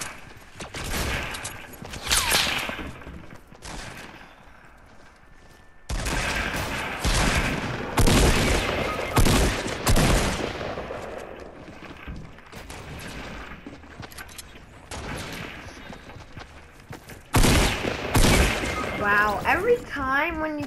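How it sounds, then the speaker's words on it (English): Bursts of video game gunfire hit the player in several loud, close clusters separated by quieter gaps, with talking heard near the end. "I mean, who shot me? Somebody shot me."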